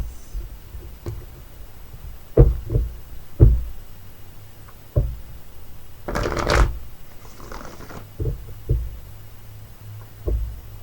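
Oracle cards are shuffled by hand in a quiet room, heard as a series of short papery riffles and taps spaced irregularly, with one longer burst of shuffling in the middle.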